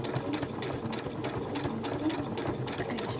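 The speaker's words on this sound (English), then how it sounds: "going to use the sewing machine, and I'm going to stitch very close all the way round that edge" A sewing machine stitches close along a fabric edge over buckram, a fast steady mechanical whir with a rapid rhythmic needle patter, close and continuous.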